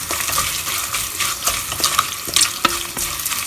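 Dry masala spices sizzling and being stirred in a pan over a very low flame, a steady soft frying hiss with scraping stir strokes and a few light clinks, close and moderately quiet.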